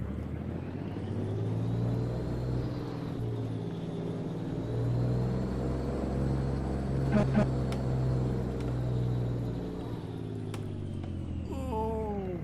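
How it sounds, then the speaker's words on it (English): Truck engine in American Truck Simulator idling low and steady, then pulling away with a rising rumble and soft gear changes, close and continuous, with no talk over it. "Hop back in the truck. We will get underway."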